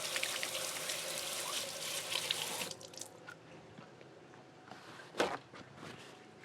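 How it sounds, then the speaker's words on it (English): Hands rinsed under a running kitchen tap for a few seconds, a steady rushing splash that stops abruptly, then scattered drips and one sharp clatter in a quieter room. "I'm just going to wash my hands here real quick."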